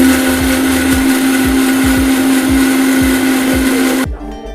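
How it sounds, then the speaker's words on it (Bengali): A kitchen mixer grinder whirs loudly and steadily as it blends green peas, coriander leaves, green chilli and ginger, with rhythmic thumps from the jar, then stops abruptly near the end. "প্রথমে মিক্সিতে দিয়ে দেবো কড়াইশুঁটি, ধনে পাতা, কাঁচা লঙ্কা"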